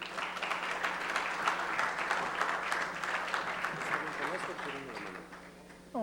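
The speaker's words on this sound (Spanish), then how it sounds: "Un fuerte aplauso para recibirlo." Audience in a formal forum hall breaking into sustained applause, a dense wash of clapping from a sizable crowd that fades slightly toward the end.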